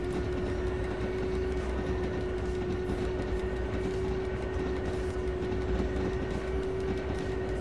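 A train runs through a station without stopping in the Train Driver 2 video game at night, a steady rolling rumble with a sustained tonal whine and faint rail clatter, continuous and fairly quiet, with no voices.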